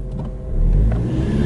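A 2015 Ford Mustang EcoBoost in a parking lot during drift practice, its engine swelling into a loud, steady acceleration roar over about a second and a half with no talk.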